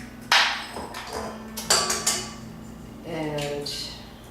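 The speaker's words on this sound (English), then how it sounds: "So I'm going to crack them into my mixer here." Eggs are cracked one after another into a mixer bowl for gluten-free banana bread. Each crack lands as a sharp tap on the rim, followed by a light clatter against the bowl, under low kitchen hum.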